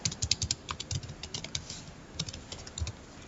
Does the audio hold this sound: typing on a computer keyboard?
yes